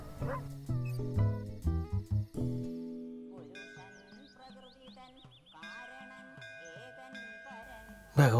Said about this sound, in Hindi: सही समय पर कुत्ता तो बीच में आ गया